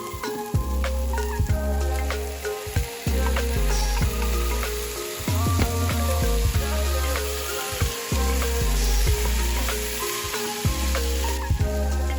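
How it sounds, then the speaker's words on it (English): Garlic, onions, peppers, shallot and fresh tomatoes sizzle and fry in a pan, with a steady crackling hiss broken by repeated clanks and scrapes of stirring, close and fairly loud with no talking. "Stir and saute all the ingredients until the garlic is fragrant."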